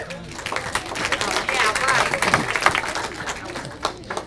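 A comedy club audience at a stand-up show breaks into sustained applause, dense clapping swelling in the middle and then tapering off, with crowd noise mixed in.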